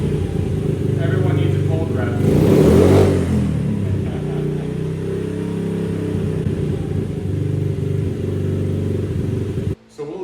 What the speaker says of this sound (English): it's warming up, so it'll idle down